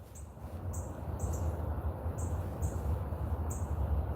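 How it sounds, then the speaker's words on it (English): A northern cardinal sings outdoors in North Carolina, repeating short bright whistled notes about every half second, clear but moderate in level over a steady low rumble of background noise. "What is that? It's a cardinal."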